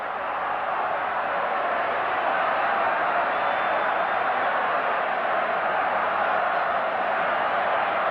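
A large rugby league crowd at a 1984 State of Origin match between Queensland and New South Wales reacts to a penalty with a loud, steady roar that holds unbroken for several seconds.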